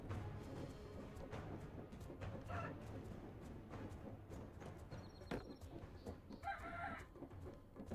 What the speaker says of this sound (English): Okay, Rooster.